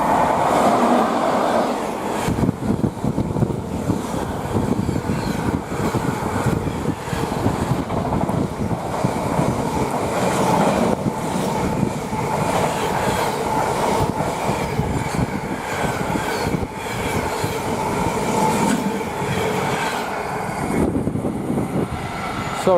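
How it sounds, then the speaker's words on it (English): A Class 90 electric locomotive, 90-018, hauls a Freightliner container freight from Felixstowe to Garston past at speed on the West Coast Main Line at Tamworth, a loud, steady roar of wagons rumbling and clattering close by for the whole stretch. "we have an XDB90 working for Freightliner going from Felixstowe to Garston, and this is properly shifting"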